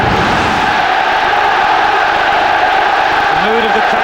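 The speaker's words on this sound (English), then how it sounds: "The mood of the crowd has changed." A large football stadium crowd at a Manchester United vs Arsenal Premier League match roars continuously, a dense, loud wash of chanting and cheering with a commentator talking over it.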